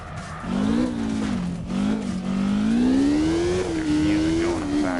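A drift car spins out in the CarX Drift Racing Online game, its engine droning steadily and rising and falling in pitch, with a voice talking over it.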